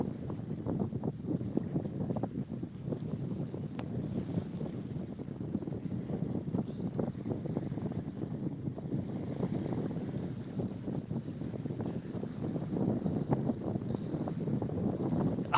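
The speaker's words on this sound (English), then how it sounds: "that wind is getting worse" Strong wind roars steadily across a fishing boat on open water, a loud, continuous rumble with gusty buffeting against the microphone and no voices.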